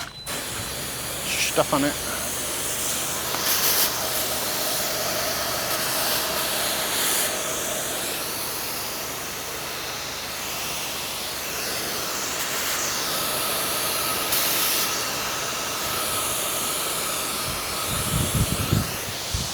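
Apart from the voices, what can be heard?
spraying water to rinse house after roof soft washing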